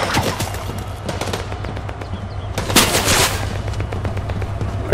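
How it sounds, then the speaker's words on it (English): Rapid bursts of gunfire in a Fortnite Chapter 5 Season 1 match, dense automatic volleys running throughout with a louder, brighter cluster near the middle, steady and fairly close. "Are you shooting at the air?"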